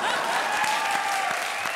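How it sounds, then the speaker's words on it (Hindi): Steady, dense applause from a comedy show audience, continuous throughout with no pauses. "जोरदार तालियां।"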